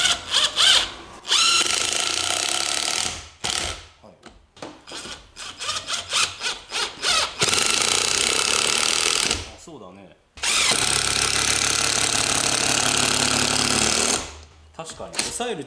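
A SnapFresh 20V cordless impact driver, model BBT-POB04, drives screws in loud bursts of several seconds each, separated by short pauses and quieter stretches, with people talking in between.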